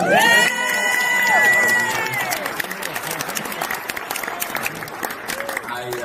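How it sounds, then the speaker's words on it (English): Keynote audience applauding to honor a speaker's mother, a dense steady wash of clapping with some cheering, loud and sustained across the whole stretch. "you mind giving my mother a round of applause?"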